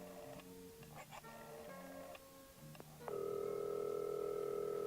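A hotel-room telephone in a lodge is dialed for a long-distance operator call: a string of short tones steps along, then a loud, steady tone holds to the end. A voice may sound faintly early on.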